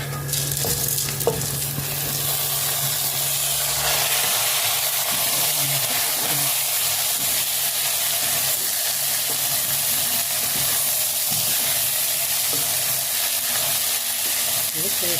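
Rice with vermicelli sizzles and fries steadily in a pan for Egyptian-style rice, with soft scraping stirs throughout and a constant hiss close by.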